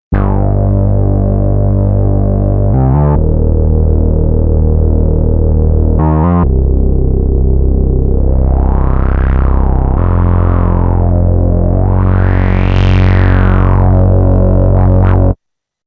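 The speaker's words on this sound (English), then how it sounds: "this is the bass we recorded with the Moog Subsequent over there" A Moog Subsequent analog synthesizer playing a deep, sustained bass line, loud and dry with rich buzzing harmonics, a few held notes with brief retriggers and filter sweeps rising and falling in brightness, alone with no voices.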